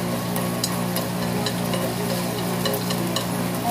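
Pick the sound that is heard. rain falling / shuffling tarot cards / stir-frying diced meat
stir-frying diced meat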